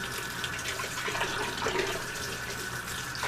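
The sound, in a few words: rinsing a Python water change hose with water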